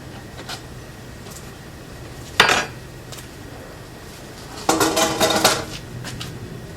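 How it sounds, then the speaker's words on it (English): Corn cobs tossed into a metal pot of boiling sausage for a low country shrimp boil, two distinct clattering bursts of knocks and clinks against the pot over a quiet background, no talking. "I'm gonna throw my corn in there"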